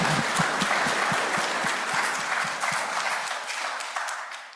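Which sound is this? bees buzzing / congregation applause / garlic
congregation applause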